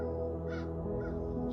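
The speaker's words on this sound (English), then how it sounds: "Right now I hear crows." Crows cawing loudly in a few harsh bursts, close by and continuous across the short stretch, with no talking over them.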